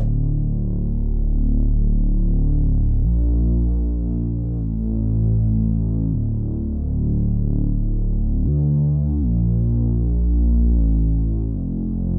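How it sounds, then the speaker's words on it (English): A thick, low Reese synth bass drone with a slow, phasing throb, holding long notes that shift pitch every few seconds, steady and loud with no voices. "This is from the Noise Pack and it's the bass Reese and it sounds like this."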